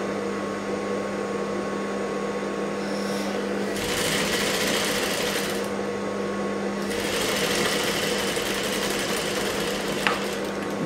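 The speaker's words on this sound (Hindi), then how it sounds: "कोने में ही सिलाई मारते हमें जाना है" A sewing machine runs steadily, stitching along the corner of a blouse, a continuous close whirring hum with two louder bursts of faster stitching and no speech.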